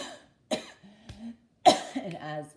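A couple of coughs, one short and one longer and harsher, separated by a brief pause and some throaty vocal noise.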